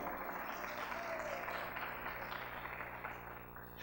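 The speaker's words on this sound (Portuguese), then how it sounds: "aplaude e glorifica, isso é poderoso" A church congregation applauds during a Portuguese-language worship service, a broad, fairly faint wash of clapping that holds steady and then tapers off near the end.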